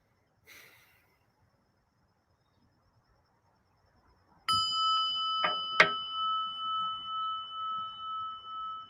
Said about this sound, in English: let's ring a little bell here and just bring a little peace into our lives